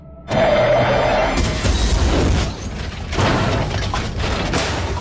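A film car crash after sudden braking: a short high squeal gives way to a loud, rumbling impact and a long, noisy scraping, grinding wash of debris and motion that stays dense and forceful to the end.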